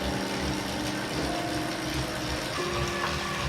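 An Elite Direto smart trainer runs steadily, a continuous mechanical whir with a faint ratcheting, geared texture, close and moderately loud with no talking.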